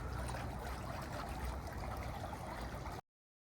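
Water flows and trickles continuously around a pool at Coral Sea Water World, a steady rushing wash at moderate volume with no voices, ending abruptly.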